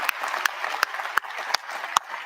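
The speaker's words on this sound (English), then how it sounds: "Let's start with some applause here." University of Scranton 2021 commencement ceremony crowd clapping: a light patter of applause with several sharp, distinct nearby claps standing out at a loose, irregular rhythm.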